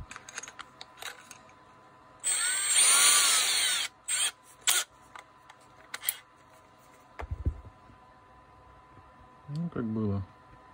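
A Makita DDF485 cordless drill is briefly test run, with a loud whirring burst of about two seconds followed by a few short, sharp trigger pulses, then quieter handling sounds and a low voice near the end.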